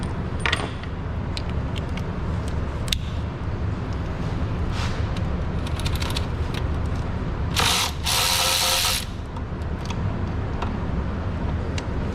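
A ratchet with a 3/8 to 1/4 inch adapter and 8mm socket turns cylinder head bolts on a 5.7 HEMI engine, making close, crisp clicks over a steady background hum, with a louder, denser burst of ratcheting near the end.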